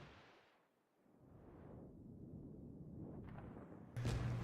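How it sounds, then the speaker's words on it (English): Torpedoes launching from the Yubari cruiser in World of Warships: a steady rumble of ship and sea noise, then a sudden loud broadband burst near the end as the torpedoes fire. "Let's get a couple torpedoes going."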